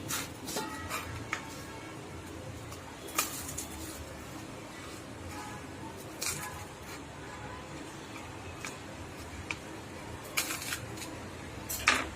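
Roasted, crisp bread being cut into pieces, with scattered sharp crunchy cuts and knife taps on a board at irregular intervals over quiet background, with no talk.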